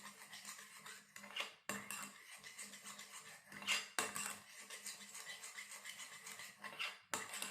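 Slime being mixed with air freshener in a bowl, giving soft repeated squelching and scraping strokes in an uneven rhythm, fairly quiet and close, with brief pauses between bursts.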